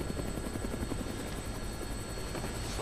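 Helicopter rotor chopping steadily from the video game Dead Rising, a continuous loud whirring thump with engine buzz that holds throughout without pause.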